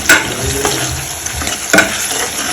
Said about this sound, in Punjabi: ਚਲੋ ਇਹ ਆਪਾਂ ਤੜਕਾ ਵਗੈਰਾ ਲਾ ਲਈਏ ਸਾਰਾ ਨੂੰ